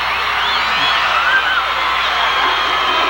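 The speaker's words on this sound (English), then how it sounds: "the crowd is starting to come alive and getting into this game" Basketball crowd noise swelling in an arena, a steady roar of cheering and whoops that runs without a break, with scattered shouts rising above the dense wash of voices.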